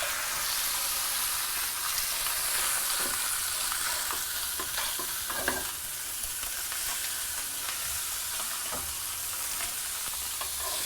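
Fish cooks in butter and lemon in a pan, a steady bright sizzle running throughout with soft scattered clicks and scrapes of stirring, close and even in level, with no talking.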